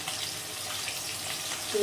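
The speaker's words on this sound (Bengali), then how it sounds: "আর এখন ভেজে নেবো" Fish sizzles and crackles in hot oil, a steady close frying hiss throughout.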